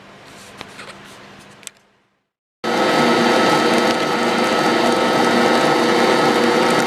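An electric mixer starts abruptly after a short pause and whirs loudly and steadily, beating wet cookie ingredients in a bowl.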